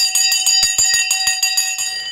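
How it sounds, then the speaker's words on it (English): A bell is rung by hand during a live stock market broadcast, giving a rapid run of about a dozen bright, loud metallic strikes with a ringing tone that lingers between the hits. "The bell has just gone."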